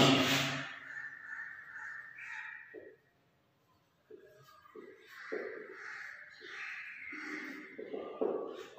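Crows caw repeatedly in a run of harsh, clipped calls, fairly close, with a short quiet gap midway before more cawing resumes.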